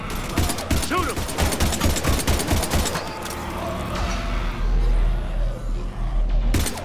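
Rapid gunfire bursts in the Mass Effect game, a dense volley of repeated shots over the first three seconds giving way to a low rumble, with another sharp burst at the end; voices speak amid the shooting.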